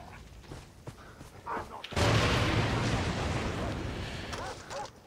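Explosions in the video game Far Cry 3: a sudden loud blast followed by a long roaring, crackling rumble that slowly fades, with someone talking before and during it.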